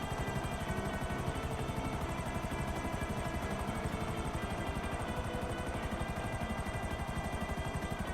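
Helicopter rotor chopping in a steady, fast, unbroken rhythm over a constant engine whine, loud and close throughout with no talking, in GTA Online.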